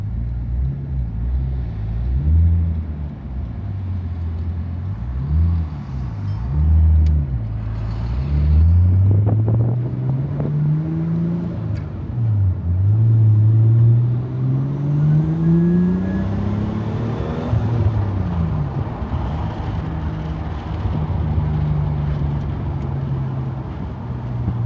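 Nissan Skyline R34 GT-T engine on a test drive, revving and pulling through gears with rising and falling pitch, heard from inside the car with road and wind noise throughout.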